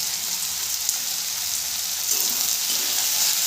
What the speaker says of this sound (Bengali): কাঁচা লঙ্কাটা দিয়েও ভালো করে ভেজে নেব